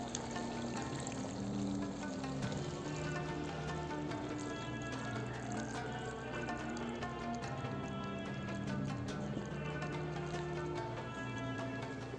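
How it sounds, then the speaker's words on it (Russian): Steady pouring of water into a cooking pot of carrots for plov, a continuous trickling splash close by that runs evenly throughout with no pauses. "теперь добавим воду"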